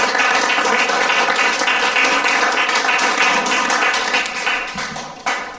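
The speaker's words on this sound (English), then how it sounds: "Let's have one more round of applause for all tonight's readers" An audience at an evening literary reading gives a sustained round of applause for the readers, dense steady clapping throughout that thins and fades near the end.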